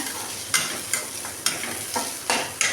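Cumin and masala ingredients sautéing in a pan for a mushroom curry, a steady close sizzle broken by five or six sharp scraping stirs, with no voices.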